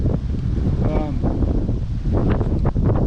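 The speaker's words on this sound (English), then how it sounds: "I got some gusty winds today" Gusty wind at a mountain campsite in the Warner Mountains buffets the microphone with a steady, close broadband roar for the whole stretch, and a brief voice-like tone surfaces near the start.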